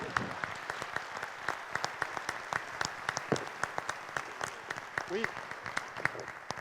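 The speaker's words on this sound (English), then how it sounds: "We applaud for Professor Scominaro." Audience applause for a professor at a surgical society welcome session in Madrid, a dense, fairly quiet patter of many hands with scattered voices and murmurs mixed in.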